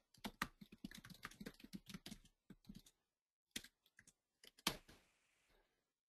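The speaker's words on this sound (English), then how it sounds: "so I'm just going to type in" Close, quiet typing on a computer keyboard, a rapid run of crisp key clicks followed by sparser taps and a final louder keystroke, with no talk.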